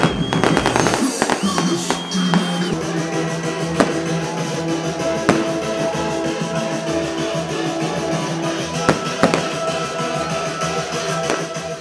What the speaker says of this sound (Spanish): Un ambiente de rumba colma cada lugar del parque, acompañado de fuegos artificiales.